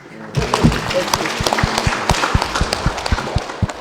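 An audience at a cultural event claps, rhythmic close handclaps settling into a steady beat over a crowd murmur, with voices around.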